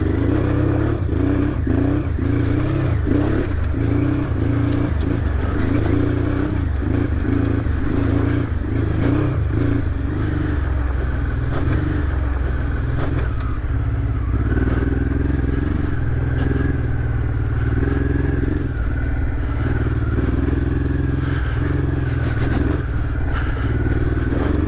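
A motorcycle on a shakedown test ride, its engine droning steadily and loud for the whole stretch with rising and falling revs, wind rush and occasional clattering, and no one speaking.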